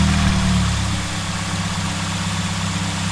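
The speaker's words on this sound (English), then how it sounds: "idling around 700 RPM" A car engine fitted with lightweight aftermarket pulleys idles steadily at around 700 RPM with a low, even rumble, alone and close up for the whole stretch, with no voices.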